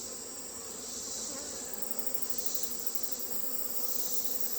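Honeybees trapped in a cup during an alcohol mite test, buzzing as a steady, dense, high-pitched drone that holds without pause, close and fairly quiet.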